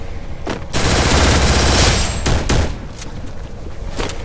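Gunfire in the video game Garena Free Fire: a loud, dense burst of rapid automatic shots lasting about a second and a half, followed by a few scattered single shots.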